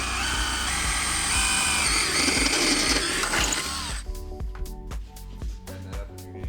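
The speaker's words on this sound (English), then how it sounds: "then we drill all the way through. There's 2 other layers of sheet metal behind there." A drill whines steadily as it bores through layered sheet metal on a Toyota 4Runner for several seconds, then stops, leaving scattered clicks and clanks of handling.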